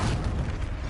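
A Reducto blast spell going off in Hogwarts Legacy on PS5, one dense, sustained low boom filling the whole second at steady loudness, with no voices.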